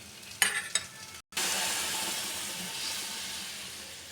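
Spices fry in a pan for a fish curry of rohu and taro stem. Two scraping stirs sound first, then after a brief pause comes a loud, steady sizzle that slowly fades.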